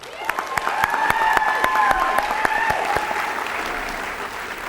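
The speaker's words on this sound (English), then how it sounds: "everyone deserves a round of applause for that" Graduation ceremony crowd applauding, loud, dense clapping with a few distinct close claps and faint cheering tones drifting above, continuing steadily throughout.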